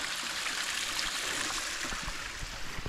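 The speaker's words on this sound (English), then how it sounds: "here you can see the water going under the bridge and coming down, cascading down the hill" Creek water cascades down a hill beneath a bridge at Cantwell Cliffs in Hocking Hills, a close, continuous rushing and splashing with bright gurgling, steady throughout and free of speech.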